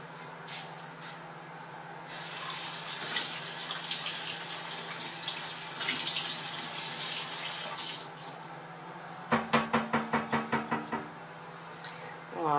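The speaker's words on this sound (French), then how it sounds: "Je vais rincer mon entonnoir." A funnel is rinsed under a running kitchen tap, with a steady hiss of water and splashing that surges in bursts, followed by a quick series of knocking taps near the end.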